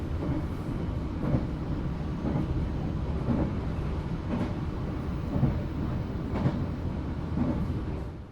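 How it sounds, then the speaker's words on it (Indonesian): Sancaka Utara economy-class passenger train pulling into Bojonegoro station on Java's northern line, a steady low rumble with faint rhythmic wheel clacks running throughout. "kereta api Sancaka Utara yang saya naiki telah tiba di stasiun Bojonegoro"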